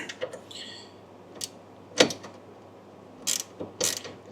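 A ratchet wrench with an 11/16 socket works on the rear brake of a 2008 Harley Glide, making a few short, sharp clicking bursts spaced apart against a quiet workshop background.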